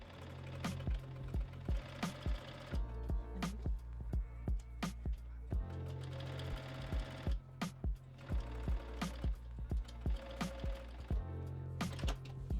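Home sewing machine stitching a tea towel dress at regular stitch length: rapid, rhythmic mechanical clatter in bursts, each run of stitches separated by brief pauses and soft thumps, close and moderately quiet.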